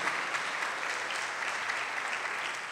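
A church congregation gives a strong round of applause during a worship service, a steady wash of many hands clapping, somewhat distant and moderately quiet, continuing evenly without any talk.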